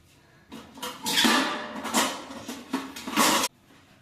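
Mayonnaise, bread and cheese mixed in a bowl give a few seconds of close scraping and clinking from a utensil against the dish, then stop.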